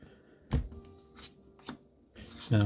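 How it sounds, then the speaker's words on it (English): Playing cards, a large tarot deck, handled in a pile shuffle, giving a few soft, close slaps and papery rustles at irregular moments with no voice. "pile shuffle, I believe, where you do that, and then make a whole bunch of different piles"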